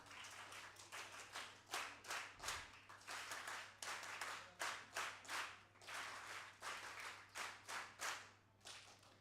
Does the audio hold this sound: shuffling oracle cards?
no